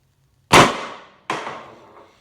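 Two sharp shots from a First Strike paintball pistol with a bypass, a modified air chamber, a Freak 684 barrel and a 12-gram magazine, each a loud close crack with a short decaying tail, the second somewhat quieter, and no talking.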